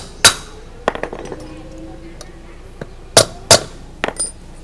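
Hammer lightly tapping a 6201 bearing into an electric scooter's front wheel: several sharp metallic knocks, a few spaced apart and some in quick pairs, close and fairly loud over a quiet room.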